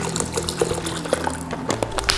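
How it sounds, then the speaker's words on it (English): Water pours into a mix of agave syrup for a fitness-friendly drink, a steady liquid splash and trickle running through the whole short stretch. "Going to add some water."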